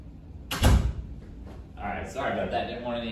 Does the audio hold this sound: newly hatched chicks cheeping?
no